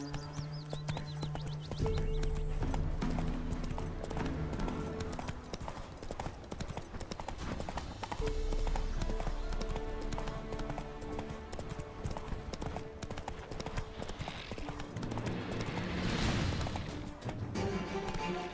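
Galloping horse hooves in The Witcher 3, a steady rapid clip-clop running throughout over a layered game music score, with a brief crash-like burst midway.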